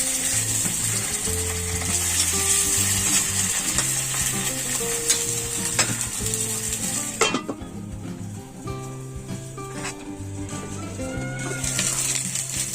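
Shawarma meat being smoked with hot charcoal sizzles loudly and steadily up close, a continuous crackling hiss that dips briefly midway before building again.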